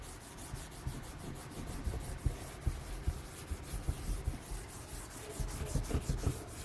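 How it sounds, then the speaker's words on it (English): Hand sanding of rough spots on a wooden patio table outdoors, a steady close scratchy rubbing in a quick back-and-forth rhythm throughout, moderately quiet, with no voices. "I'm just going to sand down these little spots right here."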